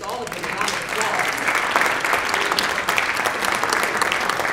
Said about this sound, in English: Let's give our candidates, all of them, a round of applause.